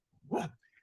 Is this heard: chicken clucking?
no